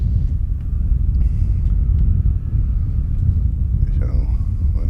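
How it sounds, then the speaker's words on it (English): Race cars at Sebring racetrack during a Spec Racer Ford event, a continuous low engine rumble with a heavy, steady roar. Someone talks softly over it, and a faint higher whine enters near the end. "we want you guys to be able to hear the cars"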